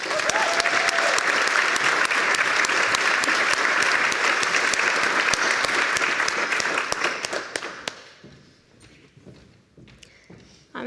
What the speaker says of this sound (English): everybody stand up one last time for one big final round of applause here